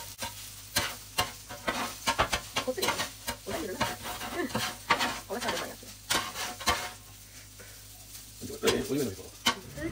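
Rice being stirred in a pan for garlic and chilli rice, with a spoon scraping and knocking through the grains in repeated strokes over a soft sizzle, close and moderately loud.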